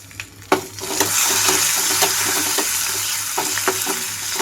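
Garlic cloves frying in a pan of oil for gongura dal, a steady close sizzle with a few sharp stirring clinks, no voices.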